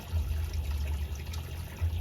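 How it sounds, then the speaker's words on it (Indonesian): Water draining out of a fish pond through a drain pipe, a steady low rushing flow that stays close and continuous, swelling slightly near the end, with no talk over it. "Saya buka sampai air mengalir keluar sampai habis, sampai setinggi ikan."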